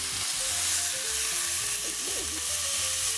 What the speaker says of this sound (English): So now that we've got it sizzling, we'll turn the fire down ever so slightly.